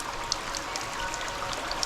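Small drip waterfall trickling over moss in a redwood forest, a steady soft close trickle with scattered bright drips and splashes throughout.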